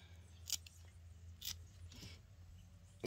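Fresh dill leaves are snipped in a few short, crisp cuts about a second apart, close and quiet against a near-silent background.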